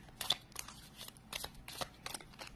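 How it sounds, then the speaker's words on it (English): Tarot cards riffle and slap in quick repeated bursts, a close, crisp papery shuffling with short pauses between passes as cards are mixed and drawn. "we're going to pull three different cards"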